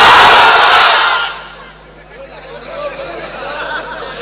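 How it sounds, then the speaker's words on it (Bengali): A large crowd of unmarried men at an outdoor religious gathering under a pandal roars the takbir in unison, a loud massed shout that fades after about a second into a quieter hum of murmuring voices. "এবার অবিবাহিত ভাইয়েরা তাকবীর দাও"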